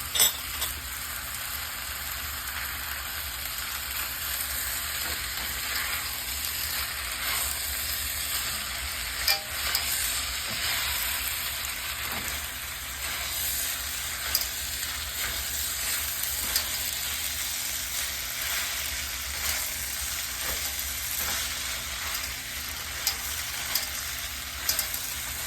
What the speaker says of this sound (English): This is the essence of stir fry.